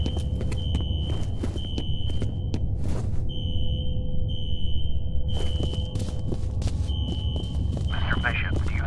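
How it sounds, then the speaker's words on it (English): A fire alarm rings in a security office in the video game F.E.A.R.: a shrill, repeating electronic tone over steady background noise, with footstep-like thumps nearby. "Fire alarm. It was triggered at a security office on that floor."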